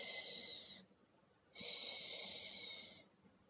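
A sleeping father snores in two long, wheezy, hissing breaths separated by a short pause, faint and steady with no talk.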